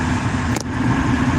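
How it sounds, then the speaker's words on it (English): Cars roll past on a slushy, icy road, a dense rumbling wash of tire and engine noise with a short spray-like burst midway, heard steadily from close by. "All these other cars driving by, throwing all that slushy ice up on top of the thing"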